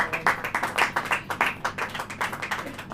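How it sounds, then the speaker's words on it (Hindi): A church congregation claps together in a steady, even rhythm, many hands striking in quick repeated beats for a few seconds with no talk over it. "ताली बजाइए।"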